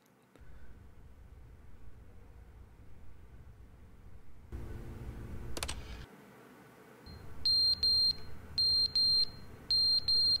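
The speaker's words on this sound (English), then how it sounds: "Oh my gosh, they give us a smoke detector." A smoke detector in The Stanley Parable sounds a string of loud, shrill beeps in pulsed groups near the end, following quieter room ambience and a brief burst of noise.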